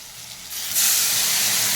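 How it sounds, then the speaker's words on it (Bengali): Wet spice paste of turmeric, cumin and Kashmiri chili powder hits a hot pan for a vegetarian curry, setting off a sudden loud steady sizzle and hiss that swells and holds. "আমি সব দিয়ে একটু ভিজিয়ে আমি এই মশলাটাই দিয়ে দিচ্ছি।"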